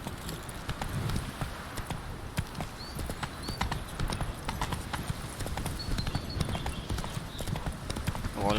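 Horse hooves clip-clopping steadily in The Witcher 3 video game, a continuous fairly close trotting rhythm with game ambience and faint speech in the background.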